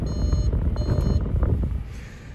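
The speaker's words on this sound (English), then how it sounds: "we've got reversing sensors, as well as a reversing camera" Reversing sensor beeps from a 1.4 TFSI Audi Q3 SE, a few short repeated tones sounding inside the cabin over a steady low idle hum.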